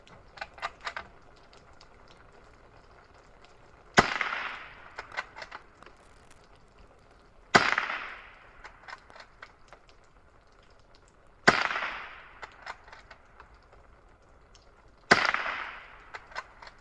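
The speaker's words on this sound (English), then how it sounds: "picked out one of those stumps and just took a few shots at it there." Four sharp .22 rifle shots from a Remington Model 512, fired at a stump outdoors, spaced about three to four seconds apart, each a crisp crack with a short decaying tail over quiet background with faint clicks.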